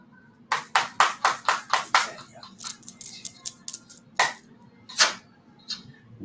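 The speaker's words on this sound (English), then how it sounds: "Let's get shuffling." A deck of cards is shuffled close by in a quick run of crisp, rhythmic riffling bursts, followed by a few looser, irregular flicks and taps.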